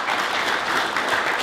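A room full of people clapping steadily at a college graduation ceremony, a dense continuous round of applause with no voices standing out.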